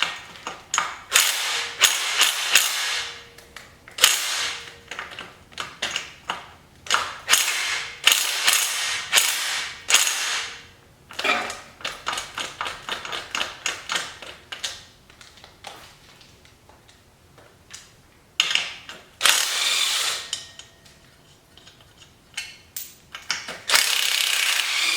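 A deep well socket ratchet removing bolts during teardown of a Pontiac Trans Am Turbo 301 engine, giving repeated bursts of close, sharp ratcheting clicks separated by short pauses and occasional metallic clinks.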